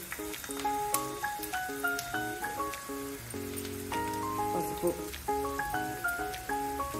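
Onions fry in a pan for an egg and dried prawn curry, with a steady crackling sizzle running under a melodic tune throughout.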